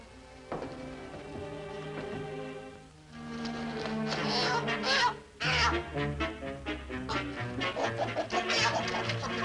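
Loud squawking and honking rooster calls clamor in a noisy burst, with agitated cries overlapping close by.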